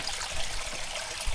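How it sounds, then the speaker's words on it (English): Running water in a small mountain stream at Dalton Branch in the Great Smoky Mountains gives a steady, faint trickling hiss, unbroken and without voices. "It looks like we got some running water."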